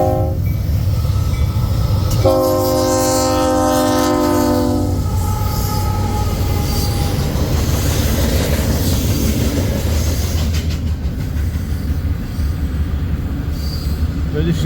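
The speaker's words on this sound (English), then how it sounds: "Here comes another eastbound manifest that'll be stopping to do a crew change here." An eastbound freight manifest train passes close by with a loud, continuous rumble of wheels and cars, its horn blaring in a sustained chord early on, and a voice talking briefly underneath.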